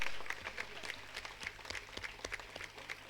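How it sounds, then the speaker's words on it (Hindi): Applause from an audience at a two-day yoga and meditation camp, a dense steady patter of clapping that continues for a few seconds at moderate distance, with no talking over it. "आ जाइए, जोरदार तालियां बजाएंगे सब लोग,"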